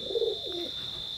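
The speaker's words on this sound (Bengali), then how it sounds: "কেটিএম ব্লাড লাইনের জোড়া নিউ অ্যাডাল্ট কবুতর" An adult KTM bloodline teddy pigeon gives a single soft, low coo close by, over a faint steady electronic whine.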